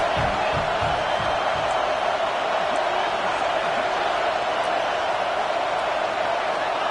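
Steady, dense roar from a football stadium crowd, loud and continuous throughout as the crowd presses the opposing offense, with faint voices mixed into the broad wash of noise.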